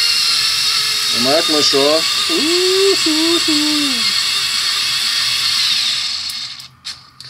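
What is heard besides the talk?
electric screwdriver driving a 5x100 screw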